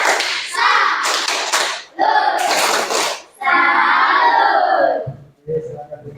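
Schoolchildren chant and clap together in a rhythmic tepuk salam greeting routine, loud bursts of group voices and hand claps in a classroom, ending in a short pause.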